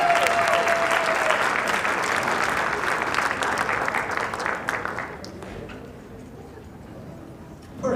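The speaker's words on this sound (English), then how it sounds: "can we get a round of applause for Friends of Music?" Audience applause at a high school band spring concert, loud dense clapping for about five seconds that thins and fades into a quiet room.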